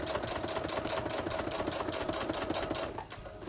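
A home sewing machine runs steadily while attaching Velcro to a small dog dress, a close, continuous mechanical whir that eases slightly near the end.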